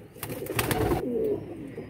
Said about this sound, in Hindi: ये है जी कबूतर